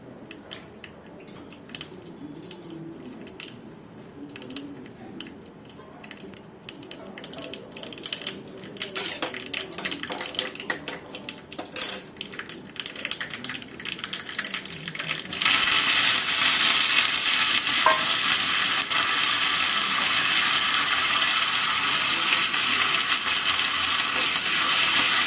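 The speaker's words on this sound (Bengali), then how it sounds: "সর্ষে আর লঙ্কাটা একটু ভাজা ভাজা হলে এর মধ্যে কারি পাতাটা দিয়ে দেবো।" Mustard seeds and chili fry in hot oil, first with scattered sharp crackles and pops, then curry leaves go in and a loud, dense sizzling hiss takes over and holds steady to the end.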